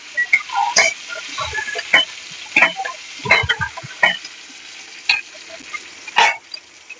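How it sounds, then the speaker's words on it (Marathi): Cumin, green chilli and curry leaves splutter in hot oil, producing sharp, irregular crackling pops and bursts of sizzling close up, with occasional stirring clinks between them. "तेल गरम झालंय. आधी आपण जिरा टाकूया. जिरा कसा उडतोय बघा."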